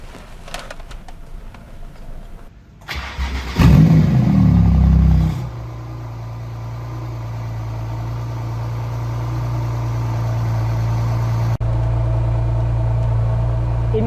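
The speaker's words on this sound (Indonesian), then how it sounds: "let's just hear out the engine sounds dari exhaust titanium di belakang" A Porsche 911 GT2 RS turbo engine rumbles through its titanium exhaust. It starts up with a sharp rev burst, then settles into a loud, steady, close idle that carries on to the end.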